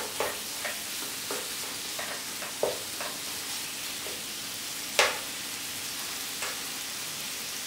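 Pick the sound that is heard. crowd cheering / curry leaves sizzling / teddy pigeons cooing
curry leaves sizzling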